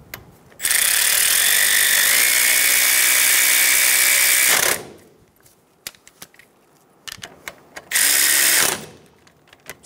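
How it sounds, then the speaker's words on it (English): A power ratchet spinning bolts tight on a Toyota Tacoma front strut assembly, with a long loud whirring run of about four seconds, some small clicks, then a shorter second burst. "Snug down the bolts."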